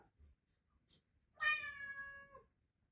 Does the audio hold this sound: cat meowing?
yes